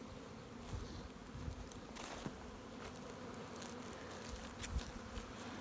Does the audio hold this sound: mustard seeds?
no